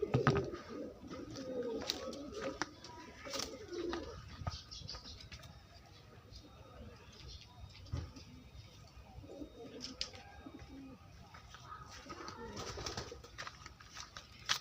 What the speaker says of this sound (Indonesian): Ini ya untuk merpatinya nih, tuh suaranya